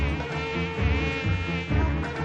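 Flies buzzing close by, a steady, loud, wavering drone that swells and dips for about two seconds, with no voices over it.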